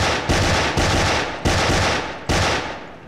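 Four loud, sharp gunshot blasts at roughly even spacing, each bursting out and decaying quickly, from a gunfight in a Turkish television drama.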